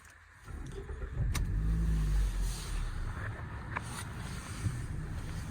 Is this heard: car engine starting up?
yes